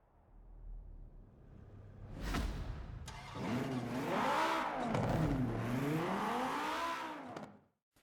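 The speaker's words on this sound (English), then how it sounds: "it's still got the stock at the standard straight 5 engine with the turbocharger" Stock straight-five turbocharged car engine in Forza Horizon 4 idling low, then revving up and down in repeated sweeping rises and falls, loud and close, before cutting off at the end.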